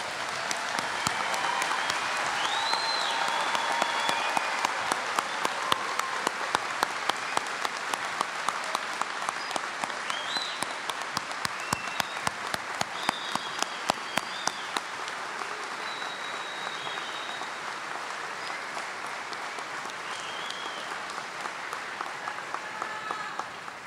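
Sustained audience applause at an 8th grade promotion ceremony, a steady crowd clapping with prominent rhythmic claps standing out, lasting over twenty seconds and gradually easing toward the end.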